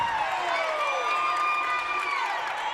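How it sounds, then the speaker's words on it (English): Spectators at a girls' high school basketball game cheer and scream in a dense, continuous roar that rises and falls slightly across the moment. "And they brought a crowd behind us, Corey."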